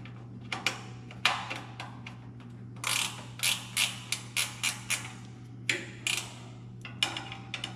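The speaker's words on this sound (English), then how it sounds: "a 3/8 ratchet wrench to tighten this down" A 3/8 ratchet wrench tightens a fastener on a Lexan forestry windshield for a John Deere 35G, making quick repeated clicking strokes, some single and some in tight runs, over a steady low hum with no talking.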